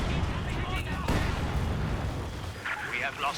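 Soviet mortar fire in the strategy game Company of Heroes 2 during a 2v2 match: a dense, rumbling wash of booming impacts that runs under a commentator's voice.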